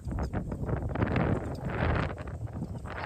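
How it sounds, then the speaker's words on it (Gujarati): Strong evening wind blows across an open farm with cattle, a rough, gusty roar buffeting the microphone, loud and continuous for the whole stretch, with no speech. "પવન જ એટલો છે"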